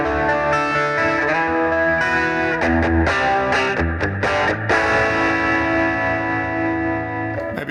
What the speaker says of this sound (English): Great sounding fuzz in a plugin.